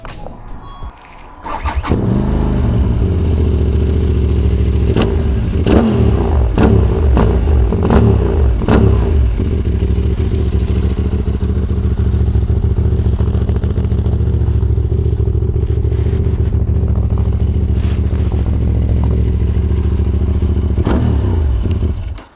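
A QJ SRT 600SX motorcycle with a loud, deep Euro 5 exhaust rumbles steadily up close on the road, with a few sharp revs and clatter early on before settling into a constant roar.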